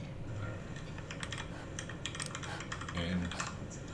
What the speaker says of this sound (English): It's a nice mechanical keyboard that's much nicer to type on than I'm used to.